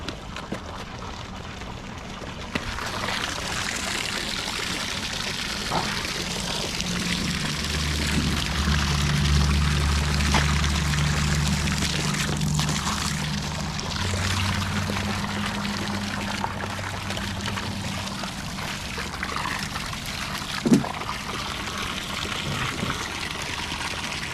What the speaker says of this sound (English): the water is coming out because I left that valve on